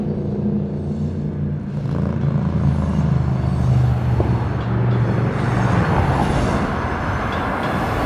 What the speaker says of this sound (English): Tangmere's train returns from servicing at Upperby Yard